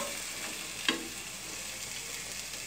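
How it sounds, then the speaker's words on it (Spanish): Potatoes with chopped onion fry quietly in a pan, a soft, even background sizzle with one brief knock or scrape near the start and no voices. "Ya que vemos que las papas empiezan a dorarse, vamos a añadir nuestra cebolla."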